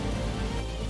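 Heavy monsoon rain pours down during flooding in Mizoram, a dense, steady roar of rain on surfaces with no gaps, loud and close.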